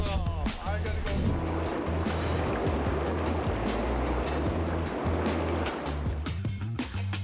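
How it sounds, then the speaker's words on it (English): Ocean surf rushes in and breaks into foam close by, a loud continuous wash of churning water that lasts throughout, with no voices. "A wave is a completely unpredictable phenomenon, and here it has already bathed you in foam."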